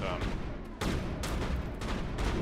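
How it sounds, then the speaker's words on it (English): Sniper rifle shots in the Mass Effect video game, heard as loud sharp gunfire bursts near the start, at about 0.8 s and again near 1.3 and 2.0 s over constant dense game noise. "I need to check how I shoot with my sniper rifle"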